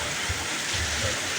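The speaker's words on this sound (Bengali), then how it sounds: "অনেক বৃষ্টি হচ্ছে।" Heavy rain pours down in a brief, unbroken wash of loud, hissing noise with a faint low patter underneath.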